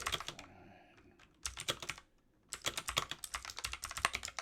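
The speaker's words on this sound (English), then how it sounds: "I'm going to type in a little assembly program here." Computer keyboard keys typed in quick, close clicking bursts while entering a short assembly program, with a brief pause partway through before rapid typing resumes.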